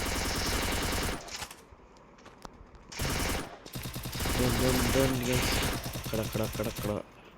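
Rapid bursts of gunfire in the mobile game Free Fire, with loud dense shots in separate volleys and short gaps between them. Voices talk over parts of the action.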